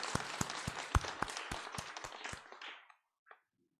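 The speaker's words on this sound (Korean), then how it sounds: "다시 한번 뜨거운 박수 부탁드리겠습니다" Church congregation applauding after an Easter worship team performance: a burst of sharp, evenly spaced hand claps for nearly three seconds, then a brief faint tap in an otherwise quiet room.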